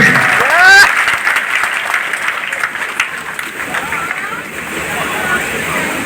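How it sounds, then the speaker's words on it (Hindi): Loud crowd applause at a public gathering, a dense wash of clapping that starts strongest and then settles into a steady roar. A brief voice or whistle sounds at the very start. "तो अब तक की सबसे जोरदार ताली और राजनाथ सिंह जी के लिए।"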